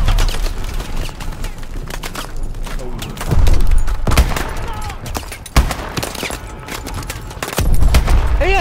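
Gunfire in the video game Call of Duty: Advanced Warfare during a Seattle street fight, with dense bursts of automatic fire and heavy thumping impacts, loud and continuous, while players talk over it.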